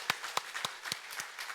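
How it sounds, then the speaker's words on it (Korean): A church congregation claps to welcome a newly baptized member after a Sunday service at Younghwa Methodist Church. A handful of distinct, spaced claps sound close, too sparse to form a full round of applause. "박수로 환영해 주시기 바랍니다."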